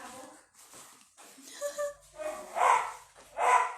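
Several dogs bark in short, yappy bursts at a house, fairly close, with some whimpering between barks and a voice faintly underneath.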